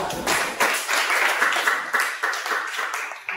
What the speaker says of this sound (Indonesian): maka kita kasih tepuk tangan untuk dulu kelompok 3